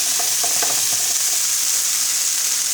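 Garlic fries in oil in a frying pan over high heat, a loud continuous sizzle with a few faint clinks of stirring near the start and no voices.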